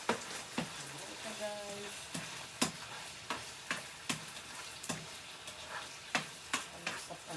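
Bean sprouts are stirred into pansit noodles in a pan, producing a steady run of sharp scraping and tapping strokes over a soft frying hiss, with someone briefly speaking.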